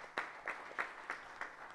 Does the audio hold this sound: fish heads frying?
no